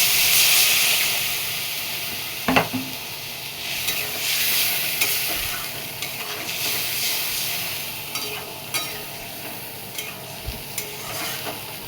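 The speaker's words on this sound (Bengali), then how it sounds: "এবার জল দিয়ে দিলাম আমি" Water poured into hot frying spices in a pan for a hilsa fish curry sends up a loud hiss and sizzle that slowly settles into a bubbling simmer, with intermittent scrapes and clinks of a stirring spoon.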